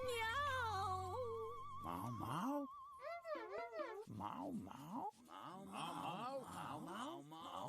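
A voice in a Turkish-dubbed cartoon imitates a cat, drawing out wavering, wailing meows over and over in a high, sing-song pitch, close and loud.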